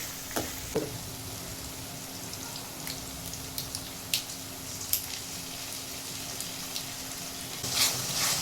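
Onions sauté in a pan for tomato rice, a steady low frying hiss with a few faint clicks and stirring taps, close but soft throughout, no voices.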